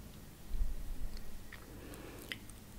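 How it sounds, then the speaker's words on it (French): A rain stick used as a sound-therapy instrument, tilted so its beads trickle through in a soft continuous rustle with faint clicks, fairly close, with no talking. "mon bâton de pluie"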